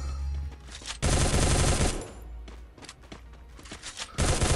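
Bursts of rapid automatic gunfire from a Bison submachine gun in the battle-royale game Free Fire, loud and dense, with a brief lull between volleys before firing resumes.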